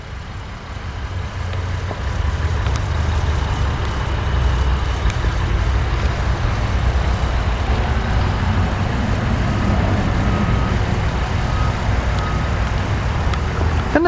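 A 2010 Acura RL's 3.7 V6 idles after startup, a steady low rumble that holds evenly throughout, fairly loud and without talk.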